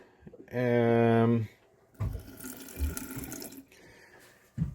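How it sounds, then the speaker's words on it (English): A tap runs on a sailboat's pressure water system, a steady loud rush of water lasting about a second, followed by talking over faint background noise and a brief knock at the end. "A pressure water system"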